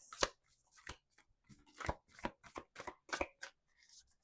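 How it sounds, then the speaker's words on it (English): Faint, close shuffling of tarot cards: a series of sharp flicks and taps in an uneven rhythm with quiet gaps between them. "See, and I did all that shuffling."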